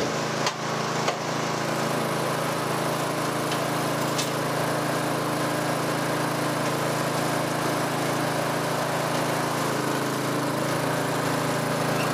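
Power drill boring a hole into the trunk of a cut Christmas tree, a loud continuous motor whine held steadily for the whole stretch with a couple of brief knocks near the start.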